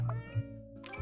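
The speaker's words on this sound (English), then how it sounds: "Did you know that Sebi can meow in 10 different cat languages" A cat meows in short, close calls, with a brief cry near the start, another just before the middle and a third at the end, over a steady low household hum.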